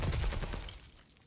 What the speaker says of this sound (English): Those shots there were just poor.